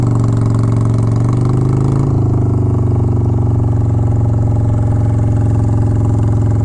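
A Honda Shadow 750 ACE motorcycle with a modified, rejetted exhaust sits at a high idle, a loud, steady low rumble that shifts pitch slightly after a couple of seconds and then holds constant, close by with no talk.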